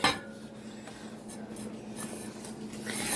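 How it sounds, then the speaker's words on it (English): An egg goes into cookie dough in a bowl, with a few sharp taps and scraping clinks of a utensil against the bowl, close and fairly quiet, with no talking. "So I'm going to add my egg in."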